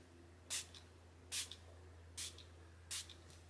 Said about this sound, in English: I'm going to use the Catrice Prime and Fine Dewy Glowing Fixing Spray.